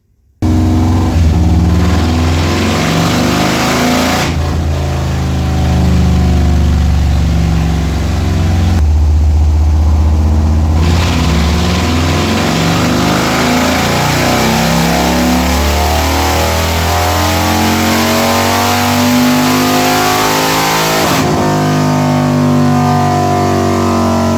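Harley Street Bob motorcycle, a tuned 140 hp bike, revving hard on a dyno with loud sustained engine roar, rising and falling through repeated runs with brief dips between pulls.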